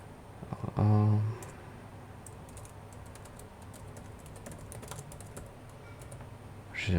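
Brisk typing on a computer keyboard while entering a form caption, a scatter of light clicking keystrokes over a faint background hum, after an opening thump, with no talking.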